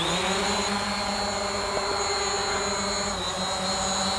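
The propellers of a Hubsan Zino drone spin up for takeoff, making a steady, fairly close whine and buzz with sustained tonal hum that holds level throughout.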